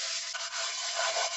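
Abrasive scrubbing of a burnt pot with Comet cleaner, a brisk continuous rough rubbing close by for over a second with no pauses and no voices.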